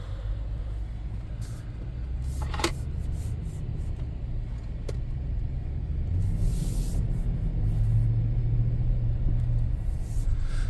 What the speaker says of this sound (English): So we're going to be listening for any kind of drivetrain noise.